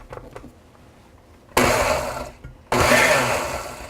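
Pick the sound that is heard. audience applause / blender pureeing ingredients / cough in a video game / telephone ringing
blender pureeing ingredients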